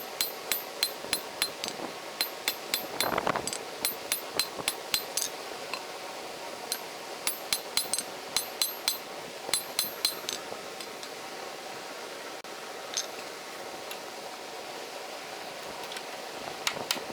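Metal being hammered while forging a monkey tool, sharp ringing hammer strikes in quick bursts with short pauses between runs, close and bright, with no talking.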